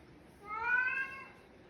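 A single drawn-out cat meow rises and fades in about a second, fairly quiet and alone.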